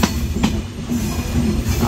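A train rumbles steadily and loudly close by as it enters Ishwardi Bypass railway station, with rhythmic clicking of wheels over rail joints and a faint squeal.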